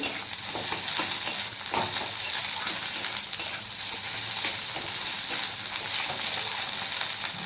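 Beaten eggs sizzle in a pan for Maggi with egg, a continuous close hiss with occasional soft clinks and scrapes from stirring.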